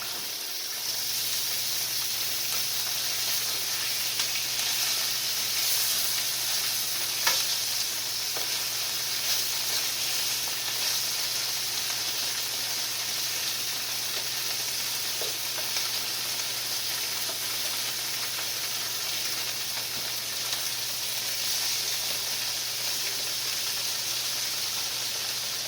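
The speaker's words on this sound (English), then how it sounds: "once the pans get hot, it only takes a matter of minutes to get bologna fried up" Bologna slices frying in hot pans on a home kitchen stove, a steady broadband sizzle and hiss that holds evenly for the whole stretch with a few faint pops and no talking.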